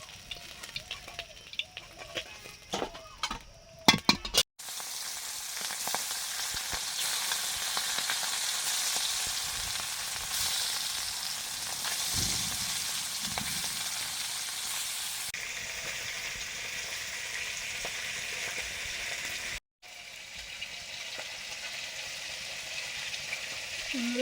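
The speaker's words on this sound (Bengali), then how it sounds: "মাছ ভাজা হয়ে গেছে, তুলে নিচ্ছি।" Fish fries in hot oil with a loud, continuous hissing sizzle that holds steady for many seconds. A brief clatter of handling comes before it, and one short gap breaks the sizzle. No one speaks.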